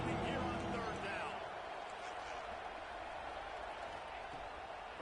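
A roaring Boise State stadium crowd in a college football video game, a dense, constant wash of noise on third down, heard under a commentator's talk.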